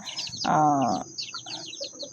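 In a backyard flock during feeding, a chicken gives one loud, drawn-out call up close. Scattered high chirps and cheeps from smaller birds follow.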